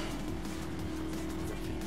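A slow pickup truck drives in Need for Speed Most Wanted, its engine a steady, low, quiet drone with faint road noise and no other sounds breaking through.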